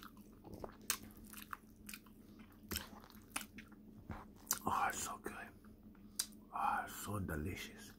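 Close-up ASMR eating of chili cheese waffle fries with ranch, soft wet bites and chewing clicks at irregular intervals over quiet whispering.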